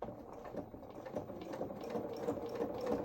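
A sewing machine runs a steady straight seam down the legs of a small coverall outfit, a continuous close whirring hum with a faint mechanical rattle and no talk.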